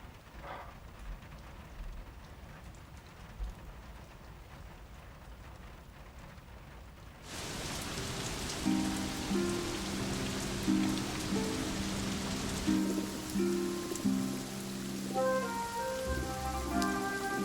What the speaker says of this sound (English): It's been raining for days.